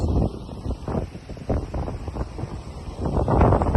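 Wind gusts buffet the microphone in rough, rumbling surges across open Bangladeshi countryside, rising and falling, with faint rustling in between.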